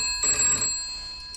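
A telephone rings in a short burst of bright tones, then fades into a quiet room with a faint lingering hum and no one speaking.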